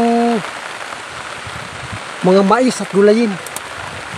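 Steady rain patters across a hilltop farm with corn and vegetable plots, a continuous broadband hiss throughout, while someone speaks briefly at the start and again in the middle.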